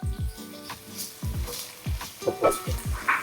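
Bagoong shrimp paste sautés in a pan for kare-kare with a steady sizzle, while the spatula scrapes and stirs in repeated strokes close by.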